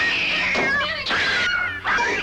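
A cat meows in a radio drama, a few drawn-out, wavering cries in close succession, loud and near, with no other sound around them.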